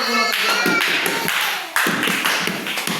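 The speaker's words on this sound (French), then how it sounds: "Acclamez très fort pour lui." An audience at a church talent event in Mbuji-Mayi claps loudly and steadily for a young singer, the applause dense and close with some cheering mixed in.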